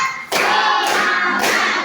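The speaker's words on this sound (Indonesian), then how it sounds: "Tepuk tangan dulu." Schoolchildren clap their hands in unison in a classroom, making three evenly spaced, loud bursts of clapping with a steady rhythm and no pause between them.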